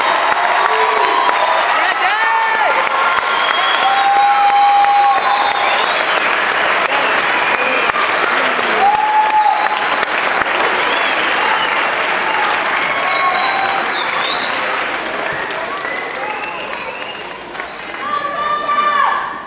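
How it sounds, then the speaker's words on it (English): An audience at a 7th and 8th grade school band Christmas concert applauds steadily and loudly for the whole stretch, with a few whoops and cheers rising above the dense clapping. "We can give these students a big round of applause."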